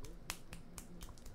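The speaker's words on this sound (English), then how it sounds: "I can't snap my fingers" Someone tries to snap their fingers, with lotion on their hands, making a handful of soft, dull clicks spaced irregularly over a faint, quiet background.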